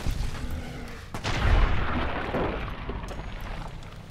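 Gunfire in Fallout New Vegas, a sharp shot followed by a booming, echoing report that rumbles and fades over a couple of seconds, set against low background noise with no talking.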